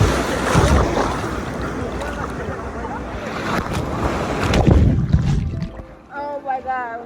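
Ocean surf breaks against a small boat carrying people on a family beach day, heavy whooshing water and wind buffeting the microphone, with a loud splash near the end and voices calling out over the noise.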